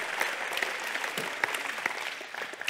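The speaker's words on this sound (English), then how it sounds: "Children, stand up and give your mamas a hand clap." Children at a church service applaud their mothers, a fairly soft, sustained round of clapping with individual sharper claps standing out from the crowd.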